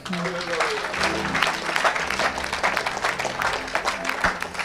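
A congregation at a French-language worship service applauds in praise, with sustained clapping and crowd noise, while voices carry on over the applause.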